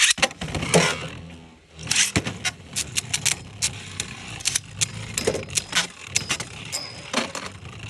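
Beyblade spinning tops clashing in a stadium, a rapid series of sharp metallic clicks and knocks with scraping in between, irregular and close.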